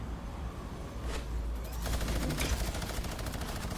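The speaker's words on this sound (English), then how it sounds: "that minigun's so inaccurate" A minigun fires in a video game, its rapid rattling burst building in after a second of ambient noise and continuing as a dense, loud stream of shots to the end.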